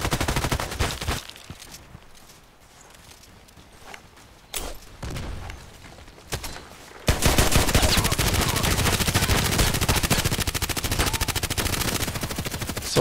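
Gunshots in the video game Contract Wars, an HK USP silver contract match: scattered sharp shots at first, then quieter stretches, then a loud sustained stream of rapid fire filling the last half.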